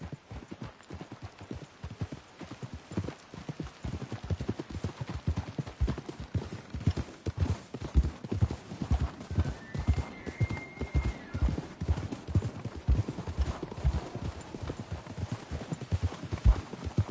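Steady clip-clop of horse hooves trotting at a quick rhythm throughout, with a brief whinny partway through, in the video game Red Dead Redemption 2.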